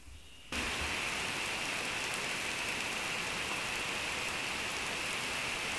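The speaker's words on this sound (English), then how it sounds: "It is pouring outside." Heavy rain pours down in a dense, steady hiss that starts abruptly and continues unbroken, loud and close, with no voices.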